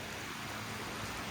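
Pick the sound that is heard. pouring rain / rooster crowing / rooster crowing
pouring rain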